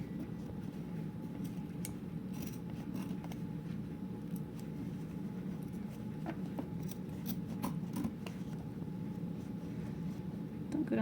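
Scissors snipping through upholstery fabric while a chair is recovered, faint scattered cuts over a low steady background hum, with no talking.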